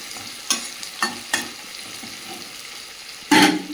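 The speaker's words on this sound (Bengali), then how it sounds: "এই তেলের মধ্যে একটু গোটা জিরে দিয়ে দেবো, দিয়ে দেবো পেঁয়াজ কুচি, একটু নাড়াচাড়া করে নেব" Whole cumin seeds and chopped onion frying in oil while being stirred, with a low sizzle broken by several sharp scraping strokes of a utensil in the pan and a louder, longer stir at the end.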